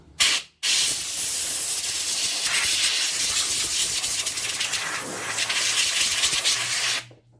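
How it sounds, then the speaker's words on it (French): Compressed-air blow gun cleaning around the oil filler cap of an Audi A3 before an oil change: a brief blast, then a long, loud, steady hiss of air lasting several seconds. "je viens donc passer un petit coup de soufflette"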